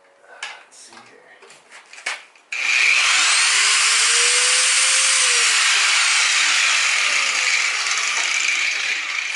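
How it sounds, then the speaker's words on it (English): An angle grinder powered by a 300-watt battery inverter starts after a few handling clicks, spinning up to a loud, steady high-pitched whine that holds near and constant, with a faint rising and falling tone as it runs. "It actually even runs the grinder, which is pretty power intensive."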